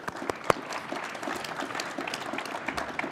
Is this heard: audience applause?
yes